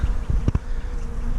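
Honeybees buzz in an opened beehive, a close, dense hum with a few brief louder thumps and rustles of frame handling near the start.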